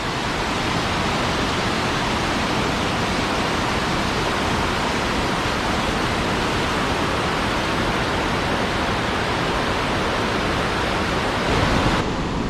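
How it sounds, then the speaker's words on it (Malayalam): Waterfall near Yuksom in Sikkim, a steady, dense roar of falling water that fills the whole stretch, loud and continuous with no voices over it. "എവിടെ നോക്കിയാലും വാട്ടർഫാൾ ആണ്"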